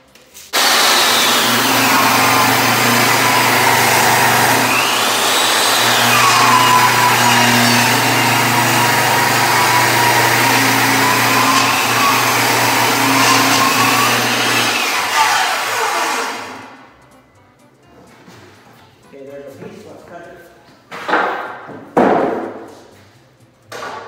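A power saw rips a wood strip for a large bookshelf, a loud, steady whine lasting about fifteen seconds with pitch dipping under load, then spinning down, followed by a few sharp clunks of handling wood.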